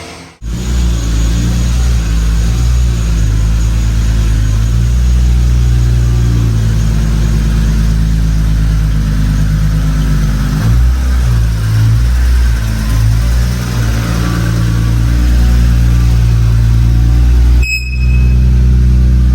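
Engine of a 700hp Toyota AE86 race car, a loud, close, sustained droning rev with rises and dips in pitch, briefly cutting off near the end.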